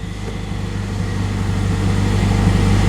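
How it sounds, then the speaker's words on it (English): A car engine idles just after a transmission replacement, a close, steady low hum that swells slightly louder over a few seconds. "Oh, it feels so good to have this thing purring again."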